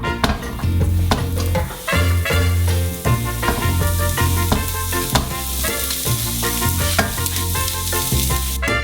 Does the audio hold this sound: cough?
no